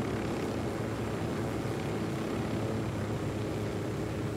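A helicopter in the video game Ghost Recon Wildlands, with a steady, loud engine and rotor drone running unbroken throughout, no voices.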